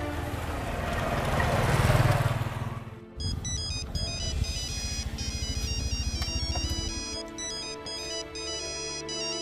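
A mobile phone ringtone plays for an incoming call, a bright repeating electronic melody that starts after a few seconds of low rumbling background and keeps ringing clearly to the end.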